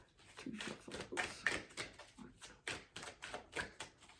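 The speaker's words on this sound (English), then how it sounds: "Two shuffles." A deck of tarot cards is shuffled twice during a reading, with quick crisp riffling taps and flutters coming close and fairly quiet in short rhythmic bursts.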